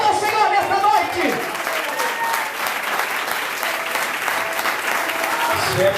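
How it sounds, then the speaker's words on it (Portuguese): A church congregation claps loudly and continuously during an evening service, while a voice speaks and sings over the steady applause. "Aplauda o Senhor nesta noite."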